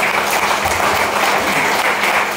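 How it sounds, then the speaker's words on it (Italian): An audience applauds an invited guest at a book presentation, a dense and steady wash of clapping throughout with no pauses. "Un applausone ad Andrea."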